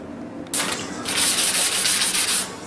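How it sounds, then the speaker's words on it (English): Steady abrasive sanding on a wooden log dog bed, a continuous rough hiss that starts after a brief quieter scrape and keeps going at an even, close-up level. "I'm just giving it a sanding here"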